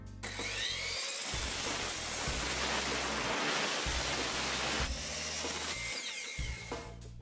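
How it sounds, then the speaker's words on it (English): A chop saw rips through a wooden board to take off an angled slice, giving a loud, continuous roaring whine that holds steady for several seconds before tailing off. "Now just cut an angled slice off the edge of the board like this."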